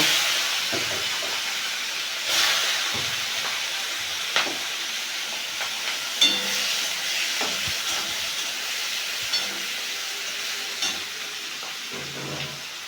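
Shrimp hit a hot pan that already holds ginger paste. The result is a soft, steady hiss and sizzle with a few sharp spits and stirring knocks, fairly quiet and with no voices.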